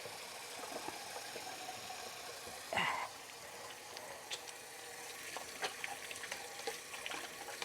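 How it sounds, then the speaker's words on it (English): Tap water runs into a kitchen sink while hands are washed, a faint, steady splashing with a brief louder gush partway through and light clatter. "Let me go and wash my hands."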